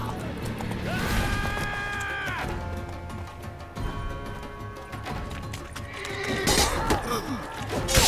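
Roach, the horse in The Witcher 3, lets out a loud harmonic whinny, then more neighs and snorts over trotting hoofbeats and clattering mechanical game sounds, with a short second whinny near the end.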